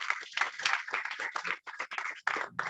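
Clapping at a school ceremony as the city mayor is welcomed, moderately loud bursts of hand claps with short gaps, fading toward the end.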